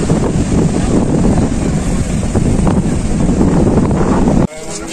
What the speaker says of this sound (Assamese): চাওকচোন ঢৌবিলাক ইমান ডাঙৰ ডাঙৰ ঢৌ আহে।